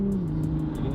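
A BMW fitted with a Toyota 2JZ engine pulls hard under steady acceleration, a loud, close, continuous engine drone with a sustained tone that dips slightly as it runs, with no talk over it.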